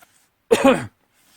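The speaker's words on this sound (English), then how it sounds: "I just had a coughing fit there" A single harsh cough or throat-clearing burst from one person, close and loud, lasting under half a second between quiet pauses.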